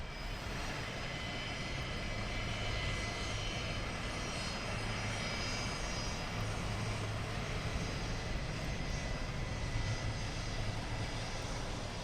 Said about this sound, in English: EasyJet inbound.